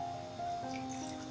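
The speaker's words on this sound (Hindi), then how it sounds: "यहाँ मैंने एक पैन लिया है, इसमें मैं डालूंगी एक गिलास पानी।" A glass of water is poured into a cooking pan for apple murabba syrup, giving a brief soft splash and trickle, close and fairly quiet, with a faint tonal hum beneath.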